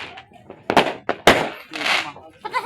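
Firecrackers bang for New Year celebrations, several sharp loud cracks in an irregular burst alongside fireworks, with people talking and shouting close by.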